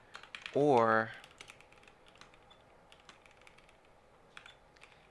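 Rapid clicking of computer keyboard keys during coding, a close, steady patter of light taps, briefly interrupted by a short spoken word.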